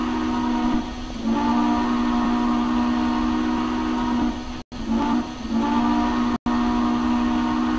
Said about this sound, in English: By the way, here's our whistle.